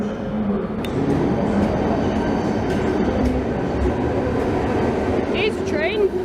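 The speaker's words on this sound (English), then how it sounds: "Here's a train." A train rumbles steadily nearby at a railway station with a dense, noisy roar, joined by faint squeals and a few brief high tones near the end.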